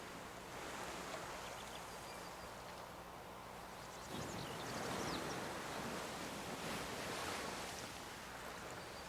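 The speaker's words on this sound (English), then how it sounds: "Just the sound of the ocean." Ocean surf in the video game Civilization VI washes in a steady, soft hiss, swelling into a fuller wave about halfway through, with no voices.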